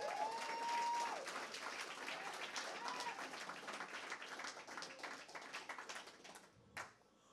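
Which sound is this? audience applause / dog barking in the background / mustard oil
audience applause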